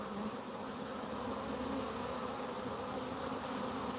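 A swarm of bees buzzes near a green hive, a dense, steady, close droning hum with no pauses.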